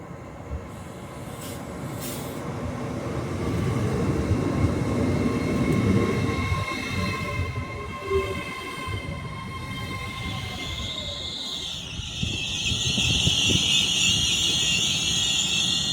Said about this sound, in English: we're getting the 1512 Hull train service to Doncaster, so it's going to arrive now